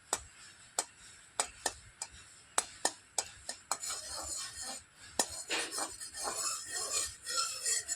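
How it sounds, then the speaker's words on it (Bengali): Ghee is stirred in a pan to melt it, starting with a quick run of sharp spoon clinks against the metal and giving way to softer scraping and light sizzling, close and fairly quiet. "নাড়াচাড়া করে ঘিটা একটু গলিয়ে নেব।"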